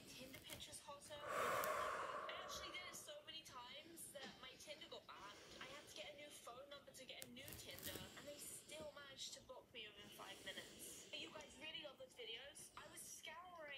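A person doing a deep breathing exercise, with one loud, forceful breath early on, followed by quieter, continuous breathy sound and background noise with no clear words.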